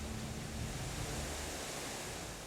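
A tall waterfall with a 144-metre drop plunges down a sheer rock wall, giving a dense, steady roar of crashing water that stays loud and unbroken throughout, with no voices.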